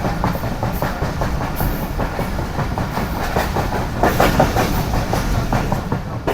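A train rolls along the rails between Mirpurkhas and Karachi with a steady rumble and rhythmic clickety-clack of the wheels, heard from on board, continuous and moderately loud.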